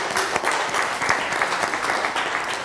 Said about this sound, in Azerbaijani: Gəlin, Vəfa Vəliyevə alqışlayaq